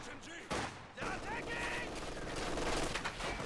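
Machine gun fire in the World War II strategy game Company of Heroes 2 during a competitive grand final, dense, continuous bursts layered with other battle noise under commentators' voices.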